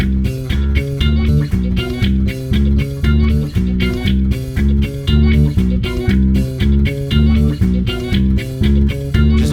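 Classic disco octave bass line from a song, played by hand plucking, with a loud steady pulse of notes jumping between octaves over a full groove, repeating throughout without speech.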